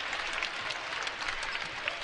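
A basketball crowd applauds steadily in an arena, a dense wash of clapping at an even level for a couple of seconds.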